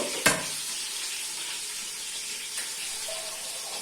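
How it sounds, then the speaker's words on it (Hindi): Water is poured into frying onions in a pot: a sharp splash sets off a burst of hissing, which settles into a steady, close sizzle that continues to the end. "और इसमें डाल देंगे पानी"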